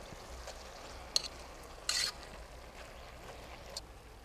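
Saltfish frying in a pot on an outdoor coal stove, a faint, steady low sizzle with a few sharp clinks and a brief scrape partway through; no talking.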